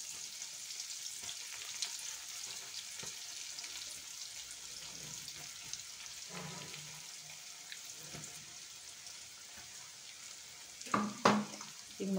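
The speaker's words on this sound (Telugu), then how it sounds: "ఈ విధంగా బ్రెడ్ పీసుల్ని మనం వేపుకోవాలి." Bread pieces fry in a pan for a Telugu bread halwa, giving a quiet, steady sizzle with occasional stirring scrapes and a louder clatter near the end.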